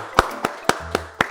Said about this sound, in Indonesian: Ayo semua yang ada di ruangan ini tepuk tangan